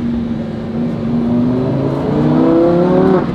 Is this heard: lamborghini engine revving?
yes